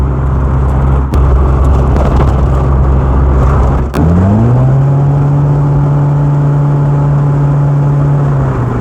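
Rover Metro 8-seater with a CVT gearbox driving along, a loud steady interior engine drone that drops and then settles into a smooth, even whine without gear changes.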